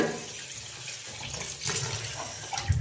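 Water runs from a tap in a continuous splashing stream, close by, swelling slightly toward the end.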